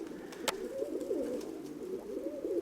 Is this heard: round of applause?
no